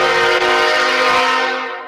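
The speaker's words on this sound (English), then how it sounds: "That was a loud train." A loud passing train with a sustained blaring horn, close and dominant throughout, fading slightly toward the end, no voices.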